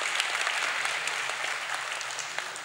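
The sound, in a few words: audience applause at a book launch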